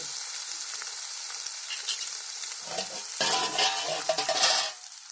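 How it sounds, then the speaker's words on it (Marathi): Tempering for masoor dal sizzles loudly in a hot pan, a dense crackling hiss that swells and sputters near the end before dying down; no voices. "अंगावर उडतो ना त्याच्यामुळे काय करायचं, फोडणी टाकली की झाकून ठेवायचं आणि गॅस बारीक करायचा"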